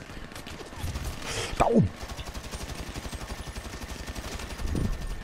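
Rapid gunfire from GTA V Online crackles in a fast, regular stream of shots, with a short voice exclamation and a falling whoosh cutting in partway through.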